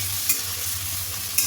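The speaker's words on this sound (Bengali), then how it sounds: "পেঁয়াজ আর টমেটোটা আমি ভালো করে ভেজে নেব।" Onion and tomato fry in a pan with a steady, close sizzle and hiss, marked by two brief scrapes of a spoon; no voices.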